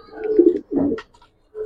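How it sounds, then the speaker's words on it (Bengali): Giribaz pigeons, a silver Palla-line pair kept in a cage, give a few soft, close cooing calls in two low rumbling bursts with a brief pause, then a shorter coo at the end. "আজকের কবুতর গুলো মাশাআল্লাহ অনেক সুন্দর কবুতর"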